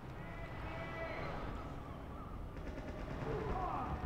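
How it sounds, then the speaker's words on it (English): Rapid gunfire rattles through a video game firefight while hunting a rogue demoman, dense bursts of shots packed together at steady loudness, with a player's voice talking over the action. "I'm being shot."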